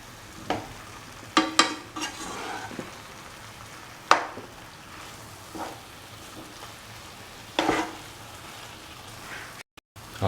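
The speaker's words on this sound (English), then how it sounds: "Keep on mixing for 4 to 5 minutes until all the ingredients are thoroughly incorporated." Vegetables for aviyal being stirred and sautéed in a pan: a soft, steady sizzle under intermittent scraping clicks of a spoon against the pan, with no talking.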